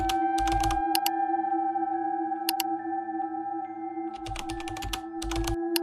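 Rapid clattering keystrokes on a computer keyboard come in bursts with pauses between them, close and fairly loud over a steady electronic hum.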